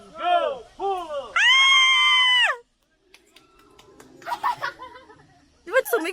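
A person screams loudly on a free fall ride in Bukidnon, first in short rising yelps and then a long sustained shriek, followed by a quieter stretch with faint voices and wind, ending in another burst of vocal sound.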